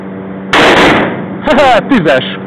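A Smith & Wesson .357 Magnum revolver fires one loud, sharp shot at close range, followed by a person speaking right after.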